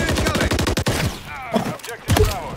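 Rapid automatic gunfire in Modern Warfare 3 rattles out as a fast, loud string of close shots for about a second. Quieter shots and game effects follow, and voices can be heard faintly.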